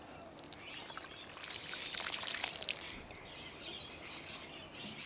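Water poured onto a basil plant in a garden bed, a soft steady trickle and splash that swells for a couple of seconds and then fades, with faint birdsong in the background.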